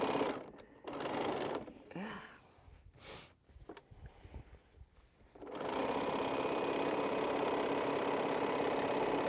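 A sewing machine stitches strips of quilt fabric at a 1/4 inch seam. A steady mechanical whir runs for several seconds at close range after a stretch of quieter handling noise.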